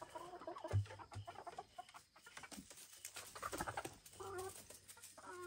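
Backyard chickens in a run cluck and murmur in short, scattered bursts while being hand-fed grubs, fairly faint and close, with light handling noises around them.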